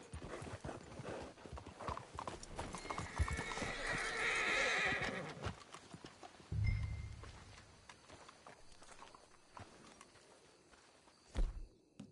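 A horse whinnies loudly in Red Dead Redemption 2 while hooves clop and shuffle nearby, then the footfalls slow and settle with a snort, close and clear.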